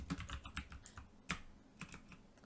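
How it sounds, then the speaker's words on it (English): Quick, uneven clicking of keys on a computer keyboard, close up and quiet, in short bursts with one firmer keystroke partway through. "So if you just type in leap motion, usually."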